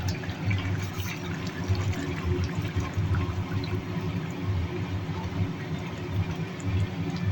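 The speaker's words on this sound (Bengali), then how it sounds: "এইবার দিয়ে দিলাম গরম জল।" Hot water pours steadily into a pot of cooking chicken, a continuous low rushing, gurgling flow that stays close and fairly even from start to finish.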